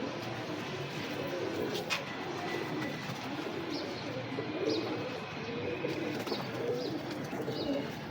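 Pigeons cooing nearby, repeated low throaty murmurs drifting over a steady ambient hiss, with no one talking.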